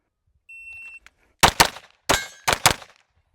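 A Sig P320 pistol fitted with a Brouwer M1823 steel grip fires at steel targets and a popper. A shot-timer beep comes first, then four sharp, loud shots follow in two quick pairs.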